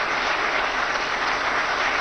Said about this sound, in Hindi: उनके जोश और जज्बे के लिए एक बार जोरदार तालियां